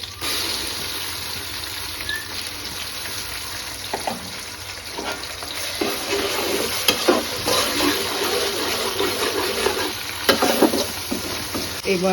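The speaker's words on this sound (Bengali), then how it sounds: "এই যে মশলা কষানো শেষ" Spices frying with chicken in a pan for a bhuna, with steady sizzling and repeated stirring scrapes throughout, close and fairly loud.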